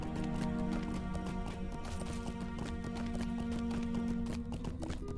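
A horse's hooves clip-clop steadily in the video game Lord of the Rings Online, a rapid running rhythm of taps over a continuous musical background.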